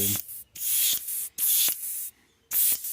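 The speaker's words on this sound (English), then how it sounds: "So we're just gonna spray this over that gold" Four bursts of hissing aerosol spray paint over gold paint, each lasting about half a second, with brief pauses between them, close and fairly loud.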